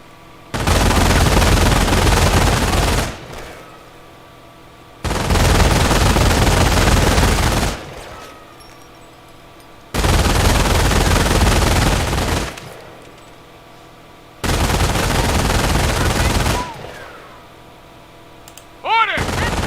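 Machine-gun fire in the World War II strategy game Company of Heroes, coming as four loud sustained bursts of about two and a half seconds each, separated by short pauses.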